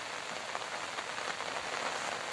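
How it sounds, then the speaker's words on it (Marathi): Heavy rain pours steadily across open farm fields during a prolonged monsoon spell, a dense, even hiss of drops hitting the ground all around with no pauses and no voices. "सकाळ धरणं भरपूर पाऊस चालू आहे"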